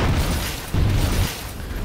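A trap explosion in the video game Demon's Souls goes off as one low booming burst with a rumbling tail that swells briefly mid-clip before fading, with no talking.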